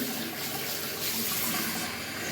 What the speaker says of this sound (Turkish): Şu an ben bu fırça çok az bir şekilde suyu açtım ve yıkıyorum fırçayı arkadaşlar.